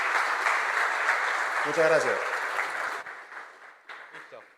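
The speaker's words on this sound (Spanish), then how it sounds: "Un aplauso" An audience at a talk on building an agentic design system claps steadily for a few seconds, then the applause thins out and fades while someone speaks briefly in Spanish.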